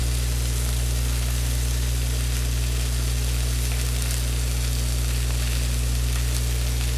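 Several steaks frying in a hot pan, giving a constant dense sizzle over a steady low electrical hum.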